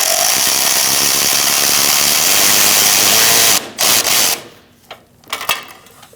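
A power tool tightens a screw on the radiator bracket of a 2016–2019 Chevrolet Cruze 1.4L, whirring loudly and steadily for several seconds up close, then stopping, followed by a few sharp clacks and rattles.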